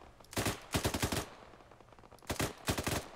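Automatic gunfire in Arma 3, two bursts of rapid close shots with rattling rhythm, a pause of quieter ambience between them, no talking.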